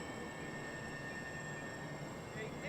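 XFly-Model Twin Otter RC plane at about half power on a scale takeoff, its twin electric motors giving a steady, fairly loud whine with a constant high tone that swells slightly toward the end.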